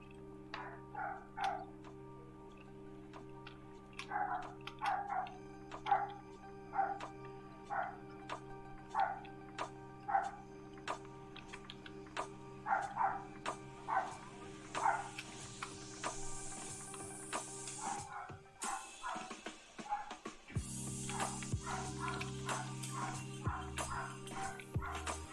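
A dog barks repeatedly at a mail carrier, sharp evenly spaced barks over a steady tonal hum, continuing for most of the stretch before a brief pause and a shift in the background drone.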